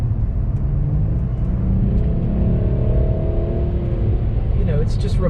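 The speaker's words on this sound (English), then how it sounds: "you still have this underlying hum of that 6-cylinder engine" A Jaguar XJ X350 six-cylinder engine hums low and steady from inside the quiet cabin while driving, a constant muted drone with a voice speaking over it.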